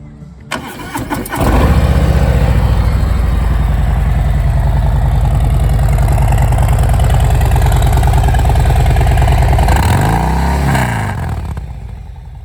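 A 2021 Harley-Davidson Street Bob 114 with S&S pipes starts up and settles into a loud, deep, steady idle close by, then is blipped once briefly near the end before easing off.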